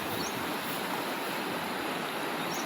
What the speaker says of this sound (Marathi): बघू शकता ओढा किती वाहतोय